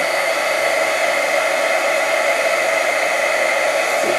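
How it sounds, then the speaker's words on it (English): A heat tool blows a loud, steady whirring stream of hot air close up, melting thick embossing powder, constant throughout without pauses or voices. "so now we're going to start applying the heat until that embossing powder begins to melt"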